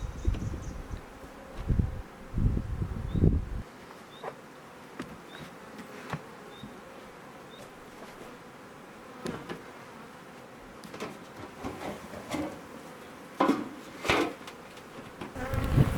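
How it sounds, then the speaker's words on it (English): Honey bees buzz around a beehive being settled into a new home outdoors, a faint continuous hum with occasional louder passes close by, plus a few knocks and handling sounds near the start. "we unblock the grass so that the bees can get out and reorientate themselves in the new home"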